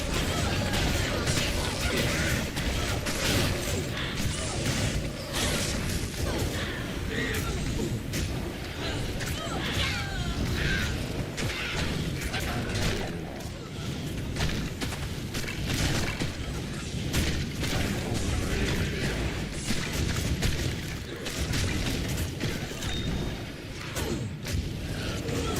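Repeated heavy booms and crunching impacts from Necromancer corpse explosions in Diablo II: Resurrected, dense and continuous, with a voice talking over the top throughout.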